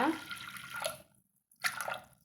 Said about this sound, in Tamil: இப்போ இதெல்லாம் நம்ம தேவையான அளவு தண்ணி சேர்த்துக்கலாங்க